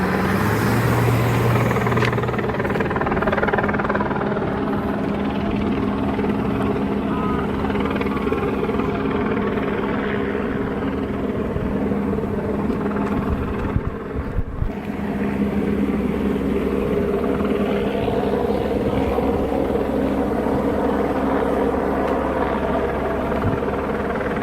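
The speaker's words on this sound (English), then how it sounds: "There's the helicopter. I'll try to zoom in on it." Helicopter flying overhead during a roadside confrontation with police, a steady loud rotor and engine drone that holds throughout without talk.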